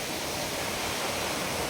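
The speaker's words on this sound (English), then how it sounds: "That's the waterfall." Steady roar of the waterfall at the Mau Mau cave in Embu, Kenya, a broad continuous rush of falling water, close and fairly loud, with no voices over it.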